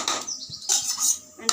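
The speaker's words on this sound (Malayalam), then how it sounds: "പരിപ്പും തക്കാളിയും വേവിച്ചെടുത്തിട്ടോ. കൂടുതൽ വെന്തോടയാൻ പാടില്ല. അതിൽ ഈ വെണ്ടയ്ക്ക ഇട്ടിട്ടോ." Sliced okra tipped into a pan of cooked dal and tomato, with a few quick clinks and clatters of a metal utensil against the pot alongside soft scraping, close and fairly quiet.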